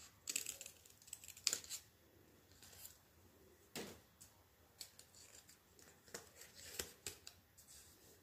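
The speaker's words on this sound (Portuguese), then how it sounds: "Agora é só cortar o matinho." Scissors cut folded paper into grass-like fringe for a handmade Father's Day card, giving a series of crisp, close snips in irregular bursts with quiet pauses between them.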